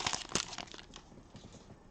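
Magic: The Gathering packaging from a Strathaven box being torn and crinkled open, a close, busy run of crackling plastic bursts that is loudest at the start and then settles into softer rustling.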